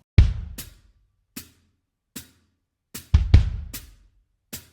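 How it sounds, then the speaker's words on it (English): Sparse kick drum thumps with crisp hi-hat ticks in a pop country song, spaced apart with silence between hits, dry and close. "Basically, all we have going is the kick and the hi-hat"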